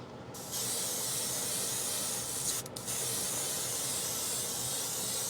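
A paint spray booth extractor fan kicks in while painting a Star Wars Shuttle Tydirium model kit, running with a steady, even rushing hiss, briefly dipping once before continuing.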